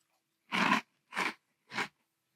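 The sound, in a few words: chewing Cheerios Protein Cinnamon cereal in milk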